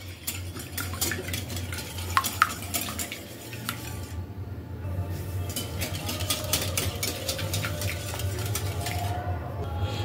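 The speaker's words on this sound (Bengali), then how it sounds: "ডিমটাকে একটা হুইস্কের সাহায্যে ভালো করে ফেটিয়ে নিতে হবে" Eggs whisked in a mixing bowl for a microwave fruit cake, the whisk striking the bowl in a fast, steady run of sharp clicks over a low background hum.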